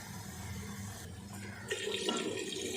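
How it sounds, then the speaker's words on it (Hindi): Water pours into a pressure cooker holding chana dal and pumpkin, a steady splashing stream that grows louder and fuller partway through, with no talking. "अब पानी डालेंगे"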